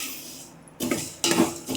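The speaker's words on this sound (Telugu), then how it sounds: "నెయ్యిలో సేమియా వేసుకొని దూరగా వేయించుకోవాలి" Vermicelli is dropped into hot ghee in a pan and fried. After a short quiet gap come bursts of loud scraping and clattering as a utensil works it against the metal.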